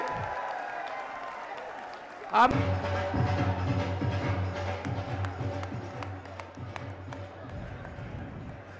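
A large crowd at an outdoor political rally in Assandh breaks into loud, sustained applause after a brief spoken word, the clapping swelling suddenly and then continuing as a dense roar with scattered sharp claps.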